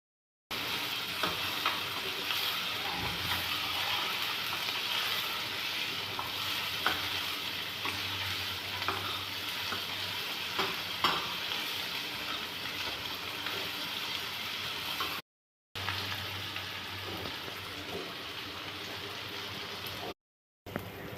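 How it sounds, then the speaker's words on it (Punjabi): A tempering sizzles steadily over low gas while being stirred for pumpkin and chana dal fry, a close, continuous hiss with scraping stirs, briefly cutting out twice near the end. "ਹੁਣ ਇਹਨੂੰ ਆਪਾਂ ਚੰਗੇ ਤਰੀਕੇ ਨਾਲ ਭੁੰਨ ਲੈਣੇ ਆ ਸਿਮ ਗੈਸ ਤੇ"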